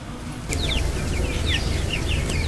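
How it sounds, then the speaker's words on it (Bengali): Chickens kept at home on a rainy day give short, light chirping calls every so often over a steady background hiss, with no one speaking. "মুরগিগুলো কিন্তু অনেক বড় হয়ে গেছে"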